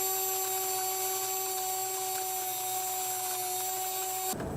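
A Blendtec Kitchen Mill grinds grain into flour with a steady, high-pitched electric whine and a constant whirring hum, loud and close throughout before cutting off abruptly at the very end.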